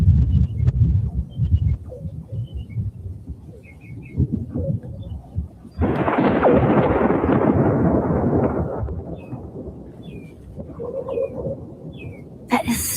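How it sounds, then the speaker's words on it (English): Loud thunder during a storm in Florida, with a deep rumble, then a sudden sharp crack that swells into a long roaring, reverberating peal before fading, while birds chirp faintly in the background. "I have never heard thunder like that."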